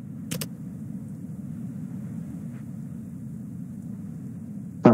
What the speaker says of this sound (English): Car's still loud for me.